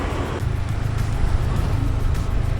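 A car passes on a very narrow road in Bali, a steady close engine rumble and tyre noise that stays loud and even through the whole short stretch, with no voices.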